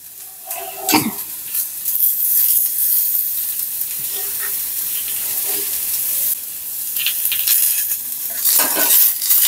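Ingredients for a greens sambar fry in a pan with a loud, sustained hiss and sizzle, with occasional spoon scrapes and clatters near the start and end, nobody speaking.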